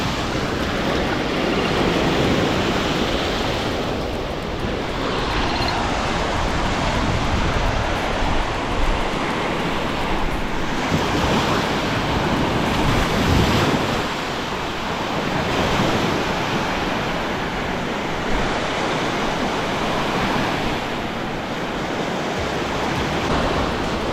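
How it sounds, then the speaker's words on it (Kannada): Strong sea waves surge and break continuously on a fine-sand beach at a resort in Desaru, a loud steady roar of surf with wind buffeting the microphone and periodic swells of crashing water. "ಅಲೆಗಳು ಸಿಕ್ಕಾಪಟ್ಟೆ ಫೋರ್ಸ್ ಜಾಸ್ತಿ ಆಯಿತು"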